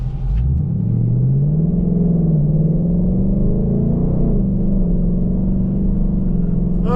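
A 2023 Ford Mustang GT Premium California Special V8 accelerates hard down the road, its engine rumble climbing steadily in pitch and staying loud and close throughout, with no talk.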